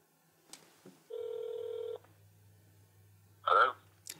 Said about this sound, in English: I'm going to dial my friend Nick for my list of favorites here.